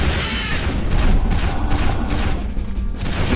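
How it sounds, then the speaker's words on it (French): Sustained rapid gunfire in the dinosaur-hunting shooter Jurassic: The Hunted, a steady stream of loud, close shots in quick rhythmic succession with no pauses and no talk. "Je tire un peu sur lui."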